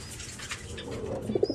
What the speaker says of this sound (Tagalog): Ayan yung mga kalapati ko.